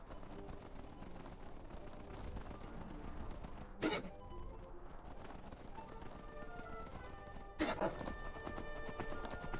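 Rhythmic clip-clop of a Daedric horse's hooves in Skyrim over busy game background sounds, with a couple of louder thumps along the way.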